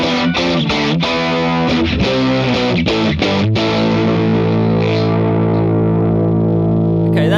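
Custom-built distortion effect set to full mix on a musical passage, a thick, fuzzy, saturated tone over rhythmic chords for about three seconds, then a long sustained distorted chord ringing out loud and alone.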